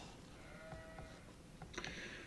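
A sheep bleating in Age of Empires, faint and small amid quiet game ambience, with a couple of short bleats and a brighter cry near the end.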